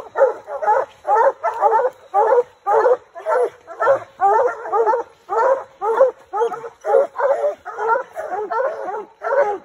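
Several hunting dogs bark and bay rapidly and insistently at a treed raccoon in rhythmic bursts, close by and loud, keeping up an excited chorus.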